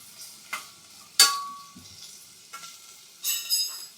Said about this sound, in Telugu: నూనెలో వేగింది కదా.